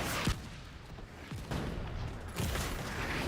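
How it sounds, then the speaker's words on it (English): Mortar fire in the video game The Division 2, with heavy booming blasts landing about three times in quick succession over a constant rumbling din of battle, loud and close, with no voices. "Watch out the mortar."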